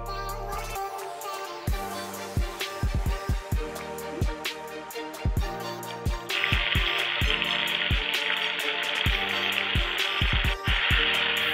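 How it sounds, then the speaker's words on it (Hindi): Okra (bhindi) dropped into hot oil in a pan, frying with sharp crackling pops at first, then a loud, steady close-up sizzle that keeps building, with no voices. "तेल गरम होते ही एक एक करके भिंडी को डाल देना है।"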